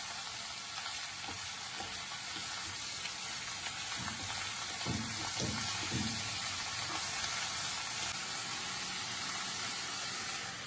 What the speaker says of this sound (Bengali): এবার একবার এই ফোড়নের সাথে লাউটা ভালো করে মিশিয়ে নিয়ে বেশ কিছুক্ষণের জন্য ঢাকা দিয়ে দেব।